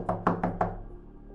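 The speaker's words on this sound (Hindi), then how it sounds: "करीब 12 बजे किसी ने दरवाजे पर दस्तक दी।" Four quick, sharp knocks land on a door in an even rhythm, close and distinct, followed by a short quiet fade.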